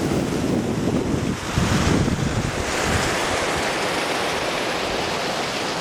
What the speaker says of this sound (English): Got close to the river again.